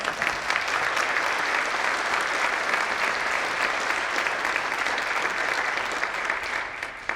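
Loud, dense applause from a large audience at a string music festival concert, sustained and even for the whole stretch with no voices standing out.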